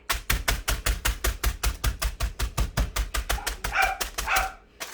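Graham crackers are slammed down inside their package in a fast, steady series of loud, close thumps and crunches, about twenty blows in quick succession, with a brief crinkle of wrapper near the end.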